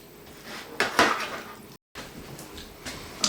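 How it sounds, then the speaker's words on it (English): Pulled pork being stirred with added cooking liquid in a pot, giving soft wet scraping and a few clinks of a utensil against the pan, with a brief louder stir near the middle. "I'm just going to add about half the cooking liquid. Stir that in and make it nice and juicy."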